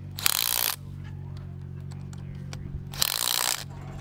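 A ratchet tightens anchor bolts on helical piles for a raised deck: two short bursts of rapid clicking, close and fairly loud, separated by a quieter pause with faint handling noise.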